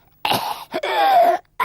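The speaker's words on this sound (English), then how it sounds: "and he was coughing." A man coughs hard a few times up close, harsh throaty bursts separated by short silences.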